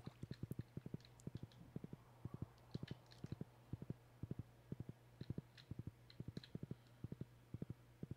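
Horse hooves clopping at a steady riding gait in the Stardew Valley game, quiet rhythmic paired thuds repeating evenly over a soft low hum, with faint scattered chimes.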